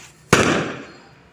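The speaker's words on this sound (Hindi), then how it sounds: "ये पटाखे फोड़ने लग गया अभी से।" A single firecracker bursts with a sharp, loud crack that fades into a decaying rumble, set off outdoors during a family gathering for the Ahoi Ashtami festival.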